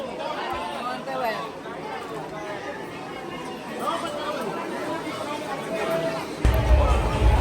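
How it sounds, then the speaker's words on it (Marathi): Dense crowd of devotees outside the Tuljapur temple: continuous overlapping chatter and babble from many people close around, steady throughout, with a sudden louder low rumble near the end. "फक्त आणि फक्त गर्दी दिसणार आहे तुम्हाला आज. बघा ते किती भरलेत, लोक येत आहेत दर्शन करण्यासाठी."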